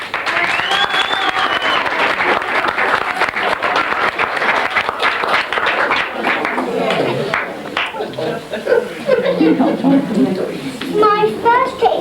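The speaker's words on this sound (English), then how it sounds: "Let's give him a big round of applause." An audience claps loudly for a boy magician at a show, a dense burst of applause that fades after about seven seconds as voices, including a child's, take over.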